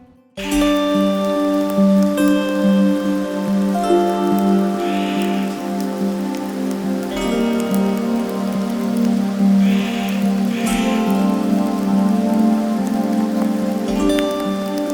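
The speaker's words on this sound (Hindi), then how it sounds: "कॉन्टिन्यूसली बस बारिश ही पड़ी जा रही थी।" Steady monsoon-season rain falls without a break in the Himalayan hills around Jibhi, Shoja and Shangarh, mixed with a background of gentle music.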